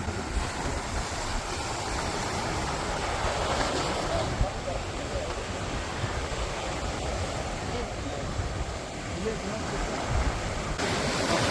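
Sea waves roll in along the Jeddah corniche as a constant broad rush of surf, blended with steady wind buffeting the microphone, continuous and fairly loud with no clear breaks.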